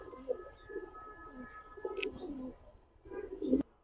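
Soft coos from a female pigeon come in a few short bursts with quiet pauses between them, close by against a calm background.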